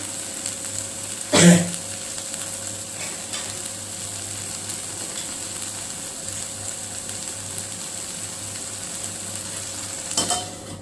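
Okra (bhindi) cooking in a pan, with a soft continuous sizzle and faint low hum, marked by a sharp clatter of utensil against pan early on and another brief clink near the end.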